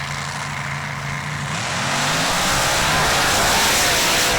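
Mud trucks launch at full throttle in a drag race, engines building from a loud idle to a roaring, sustained high-power rev that swells and stays intense and close.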